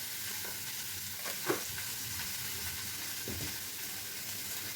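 Mutton curry with chilli powder and turmeric cooking in a pan, a soft continuous sizzle with occasional scraping stirs of a spoon, fairly quiet and close.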